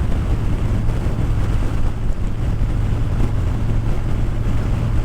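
Heavy, continuous wind buffets the microphone while riding a motorcycle on an open road, a loud low roar with no break.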